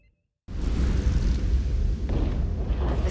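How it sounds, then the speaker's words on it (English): A storm rumbling in the video game Star Trek: Resurgence: after a brief silence, a sudden heavy, deep roar kicks in and continues as a loud, sustained rumble with no talking. "The storm is getting worse."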